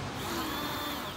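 A car windshield wiper motor runs under test on a bench, a steady close electric whir with a smooth even tone throughout the short stretch and no voices.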